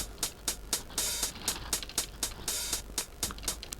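Lo-fi cassette drum loop sample with a hissy, tape-worn texture; steady kick and crisp snare hits repeat in a regular groove.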